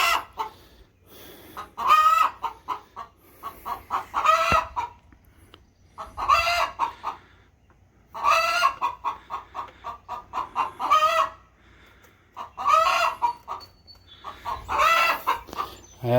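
Hens on a backyard flock cluck and cackle loudly in repeated bursts, one hen giving the rising, insistent egg-laying announcement call every couple of seconds, close to the listener with quieter clucking between outbursts.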